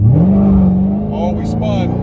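A Dodge Demon 170 launches from a stop in second gear on a street and spins its tyres, the engine roaring up loud and close with rising revs; a voice comes in over the engine near the end.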